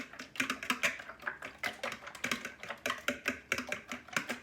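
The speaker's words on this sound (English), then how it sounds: "we're going to get these eggs beat up" Eggs being beaten by hand in a clear bowl without a whisk, a quick run of sharp clicking taps against the bowl in an uneven rhythm, close and fairly quiet with no talking.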